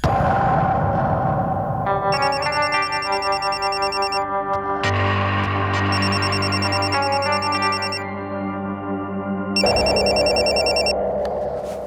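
An electronic telephone ringtone rings in bursts, loud and clear, over a steady background of dramatic music, with no talking.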